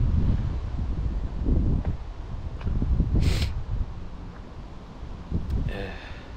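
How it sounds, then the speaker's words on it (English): Wind blows through Undercliffe Cemetery, gusting and buffeting the microphone with a continuous rough roar that swells and eases in waves. "Bloody wind tunnel down here."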